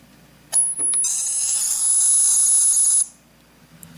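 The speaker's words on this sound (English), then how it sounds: "it does sound like a little bit of a modem handshake there" A TC Electronic TonePrint data transfer to a Flashback delay guitar pedal gives a shrill, steady electronic tone with a buzzy, modem-like warble, lasting about two and a half seconds with no speech over it.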